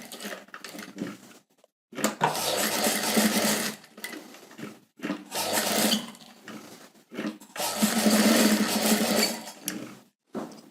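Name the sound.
sewing machine stitching a blouse neck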